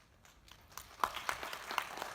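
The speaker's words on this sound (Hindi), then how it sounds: "तालियां की जरूरत नहीं है" Scattered hand claps from an audience at a Hindi spiritual discourse, a few sharp claps starting sparse and building slightly over two seconds before fading back.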